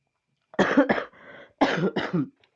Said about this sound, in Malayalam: എനിക്ക് ചുമയാണ്